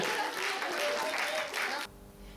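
Applause from an audience at a school award ceremony, honouring a first-place school team at a municipal event; steady, dense clapping for about two seconds that cuts off abruptly into a quiet room.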